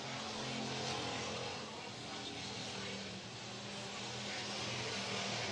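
Pure stock race cars roar around an oval dirt track, a dense steady engine drone heard from a distance with a faint voice underneath.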